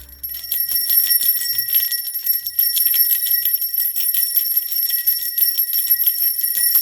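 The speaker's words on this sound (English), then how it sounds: "let me bell cleanse you guys before we" A small hand bell rung continuously for an energy-cleansing ritual, a bright, shimmering ring sustained for several seconds, loud and close, with no talk over it.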